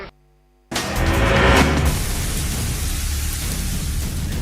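Heavy monsoon downpour over flooded slum huts, a dense, loud, steady roar of rain that bursts in abruptly after a brief quiet tone and continues unbroken throughout.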